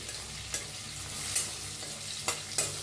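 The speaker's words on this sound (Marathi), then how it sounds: "त्याला हलवून घेऊया हळदीला बी" Asafoetida, curry leaves and turmeric frying in oil in a pan while being stirred, a soft steady sizzle broken by a few brief scraping strokes of the spoon.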